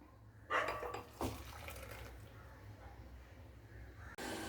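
Keerai soup made with ponnankanni greens is poured from a pot into a bowl, giving a soft splash and a couple of clinks of metal utensils in a quiet kitchen, with no talk.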